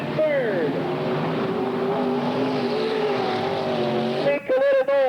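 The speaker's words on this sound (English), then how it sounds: "Ron Cooper into turn 3. And at turn 4, he's going to win it" Sprint cars racing around a speedway dirt oval in a Northern Sprint Tour event, engines droning loud and steady as they pass with shifting pitch, under a track announcer calling the race.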